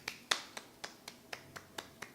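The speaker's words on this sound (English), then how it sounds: "Give yourself a hand clap." A short run of about nine crisp hand claps at a steady, moderate pace, each a sharp broadband snap with a brief decay, close and fairly quiet with no voices, given after children's singing.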